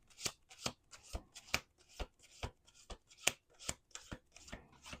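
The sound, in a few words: tarot cards being shuffled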